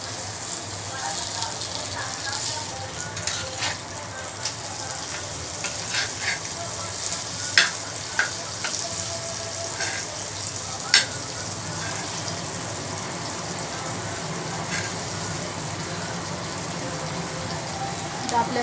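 Fresh bombil fish fry in a pan over medium gas, giving a steady, close crackling sizzle with scattered sharper pops, while a voice talks now and then over it.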